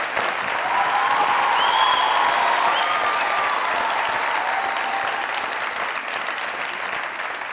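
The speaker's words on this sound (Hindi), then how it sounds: "जोरदार तालियां।" A studio audience at a comedy talk show claps loudly and steadily, a dense sustained wash of applause that swells early and holds for several seconds, with faint crowd noise and no clear talking.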